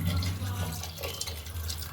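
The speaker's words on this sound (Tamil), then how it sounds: "ஸோ நான் வந்து இந்த அளவுக்கு நான் தண்ணி ஊற்றிருக்கேன்." Water is poured into a pressure cooker holding mutton and coconut paste for kulumbu, a continuous close splashing fill with a running, trickling texture and no talk.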